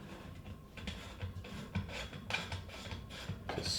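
A metal shade ring is hand-screwed up a light fitting tube on a Fantasia fan light kit, giving quiet, close scraping and rubbing turns in a short irregular series.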